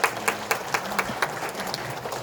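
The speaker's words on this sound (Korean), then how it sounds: "우리 사모님 한혜경 사모님 저 뒤에 계신데 한번 자리에서 한번 일어나시고 우리 박수 한번 합시다." A church congregation at a Korean Holiness Sunday service claps together in a quick, regular rhythm, a few seconds of moderately loud, evenly spaced claps with no talking.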